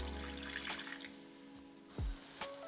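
Water is splashed into a pan of vegetable curry with new potatoes, giving a short pour and a sizzle with a brief louder burst near the end, close by with no talking.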